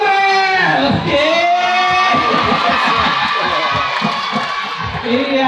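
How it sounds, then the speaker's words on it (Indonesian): Students at a school morning assembly applauding and cheering, a dense steady patter of many clapping hands under shouts and whoops, loud and continuous. "Iya, kita tepuk tangan untuk Aurel"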